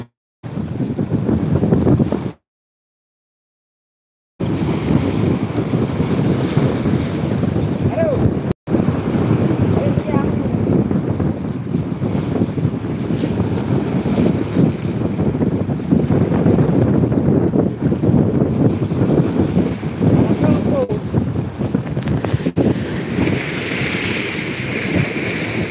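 Strong wind blowing over open sea beside a small fishing boat in rocky coastal water, buffeting the microphone with a constant rough roar, broken once by a brief dropout near the start.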